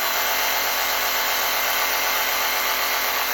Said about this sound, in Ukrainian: І так, наступне у нас сабельна пила.